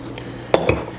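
A fork clinks and scrapes twice against a mixing bowl while stirring yeast and water into flour for pizza crust dough, short close taps with a quiet pause between.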